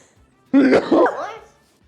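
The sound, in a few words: sneeze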